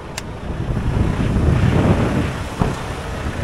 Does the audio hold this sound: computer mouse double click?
no